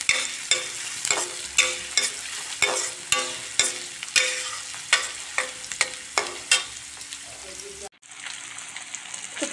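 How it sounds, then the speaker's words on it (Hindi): Onion frying in a pan for a potato and bottle gourd curry, a constant sizzle broken by regular rhythmic scrapes of a spatula stirring, close and clear, before an abrupt cut to a quieter hiss. "तो प्याज अच्छे से भुन गई है"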